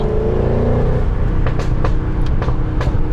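An Audi RS6 engine rumbles steadily with a deep, continuous drone, punctuated by several short sharp bursts as the revs blip down through the gears.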